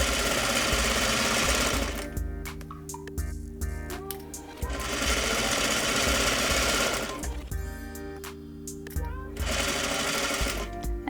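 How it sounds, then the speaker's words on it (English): A domestic sewing machine stitches a pleat in wide-legged trousers, running in loud steady bursts of rapid mechanical whirring separated by short pauses, with a speaking voice heard in the gaps. "we're going to pin our straight lines together to create our pleat. Sew along your drawn line"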